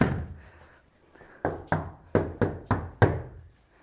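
Knuckles rap on a heavy, solid exterior door: after a faint start, six firm knocks land at a steady, evenly spaced rhythm, each with a short dull thud and quick decay. The knocks are close, with no talking.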